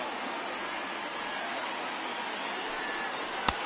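Steady roar of a large stadium crowd in a baseball video game, over 39,000 fans on their feet, a continuous broad wash of cheering with a single sharp crack near the end.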